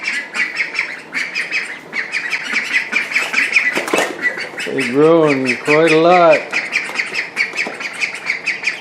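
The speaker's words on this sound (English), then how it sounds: "The first thing I want to do today is move these ducks out of the garage" Ducks in a garage squawk and quack in a busy, close chorus, with a burst of wing flapping midway and a person speaking briefly over the noise.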